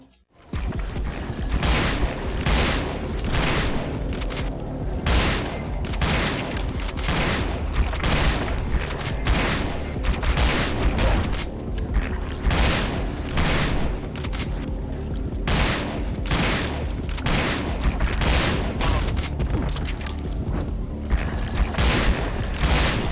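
Continuous gunfire fills a boss fight in the video game Resident Evil Dead Aim, with loud, rapid, evenly spaced booming shots over a heavy rumbling game soundtrack and no pauses.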